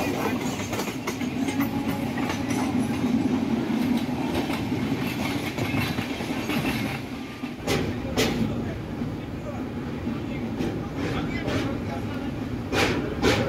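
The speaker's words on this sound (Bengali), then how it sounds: "ট্রেনটা নিজের গতিতে চলতে চলতে এগিয়ে চলো সামনের দিকে" A train rolls along the tracks on the way toward Sikkim, giving a continuous loud rumble with rhythmic clickety-clack and a few sharp rail clanks, with no talking.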